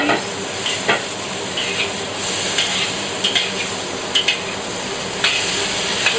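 Prawns, snow peas and mushrooms stir-frying in a pan, a steady loud sizzle with occasional sharp scrapes and clinks of stirring, no voices.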